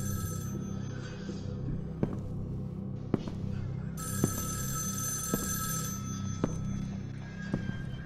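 A telephone rings repeatedly in the horror video game Evil Inside, a bell-like electronic ring recurring at regular intervals over a low ambient hum, moderately loud and without speech.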